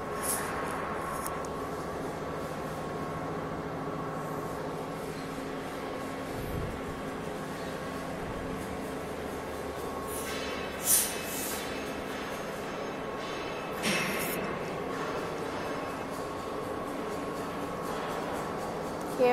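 A C beam roll forming machine line, with cutting die units and twin motors, runs with a steady industrial hum and rumble throughout, plus a few brief metallic clanks and hisses.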